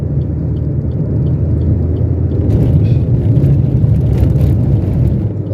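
Steady car engine rumble with road and wind noise, heard from inside a car speeding past another car on the Palembang–Prabumulih highway in South Sumatra; loud and continuous, with a slight swell in hiss midway.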